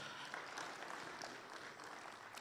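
Applause from the audience at a regional forum on artificial intelligence, welcoming a speaker; dense, even clapping lasts the whole moment, soft and somewhat distant, with no voices over it.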